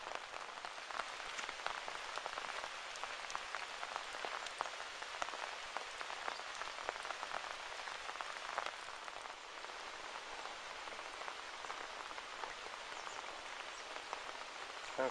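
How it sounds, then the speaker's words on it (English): Steady rain falling on a lakeside path by the Toplitzsee under cloudy skies, a dense, even patter and hiss of drops throughout, close and continuous with no talking. "And it's still raining."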